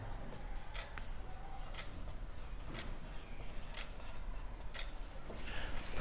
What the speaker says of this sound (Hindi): तो सबसे पहले लिखेंगे y बराबर 2x प्लस थ्री